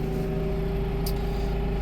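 A 6715s tractor engine idles close by in a steady, even diesel drone with a constant low hum and a clear tonal whine, loud and unbroken, with a brief faint high click partway through.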